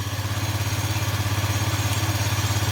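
A motorcycle engine idles roughly with a misfire, a close, steady low throbbing pulse that repeats evenly throughout with no voices.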